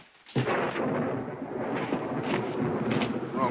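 A storm's thunder rolls in abruptly after a brief quiet moment, then rumbles continuously and loudly, with a broad, heavy roar that swells and ebbs for several seconds.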